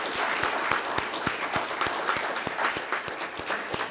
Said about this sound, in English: let's give them a round of applause for coming up here and sharing their ideas